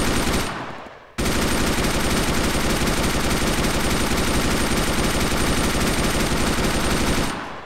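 Sustained automatic fire from a Mini-Mi machine gun in the ARMA 3 video game, a dense, loud, continuous burst running for about six seconds after a brief opening shot and gap, with no talking over it.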